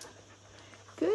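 A happy female puppy gives a short high whimper after soft panting and breathing, close by and brief.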